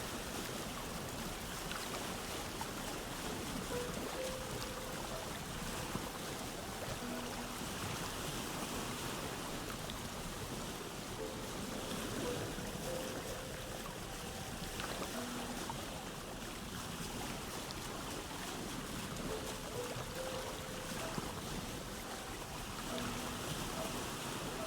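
Boat sailing across open water in Vintage Story, a faint steady wash of waves and wind against the hull, with soft tonal chimes drifting in the background and no voices.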